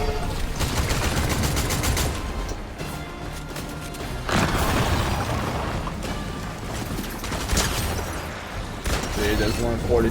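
Shotgun blasts from Fortnite Chapter 4 Season 6 mythical weapons, several loud, close bursts spread through the stretch amid busy game effects, with a player talking over much of it.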